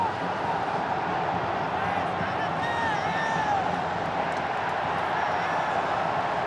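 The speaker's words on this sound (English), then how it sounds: "And now listen to the National Stadium. It's got the crowd going, that goal." A stadium crowd at the National Stadium roars after a goal in a Singapore versus Indonesia football semi-final, a steady, dense wall of cheering and whistles at a distance under commentary.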